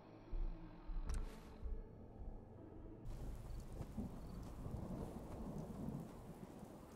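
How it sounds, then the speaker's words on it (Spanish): Thunder rolls and rumbles through steady rain during a radiation storm in the video game Fallout 4, starting with a few loud cracks before settling into a continuous wash of downpour with distant booms. "Ah, tormenta radiactiva."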